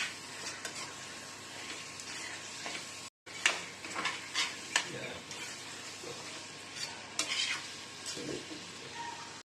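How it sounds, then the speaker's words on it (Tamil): Goat liver frying in a pan as pepper is stirred in, a steady sizzle broken by scraping and clinking strokes of a spoon, close and even, with a brief gap of silence early on. "பெப்பர் சேர்த்து நல்லா கிளறி"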